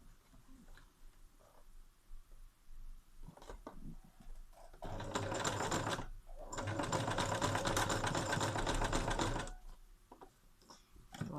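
Domestic sewing machine stitching fabric for a mold mask, running in two loud bursts of steady whirring, a short one then a longer stretch, with quiet handling noises before and after.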